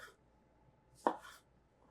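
A knife chops through a tomato on a cutting board for a salad, two crisp cuts with one sharp knock against the board, close and isolated in a quiet kitchen.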